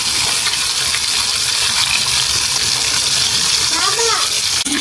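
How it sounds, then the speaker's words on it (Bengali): Hilsa fish fries in a pan on an electric stove, giving a steady, close, loud sizzling hiss that runs throughout with a brief clatter at the end. "এটা এখন ইলিশ মাছ ভাজা হচ্ছে।"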